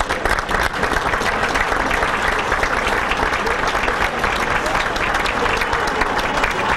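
A large banquet audience at a sports hall of fame dinner breaks into loud, sustained applause, a thick wash of many clapping hands with a light crowd murmur underneath.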